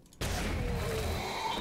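Blunderbuss fired in the zombie survival game 7 Days to Die: a sudden loud blast at the start that rolls into a sustained, dense rumbling tail lasting over a second.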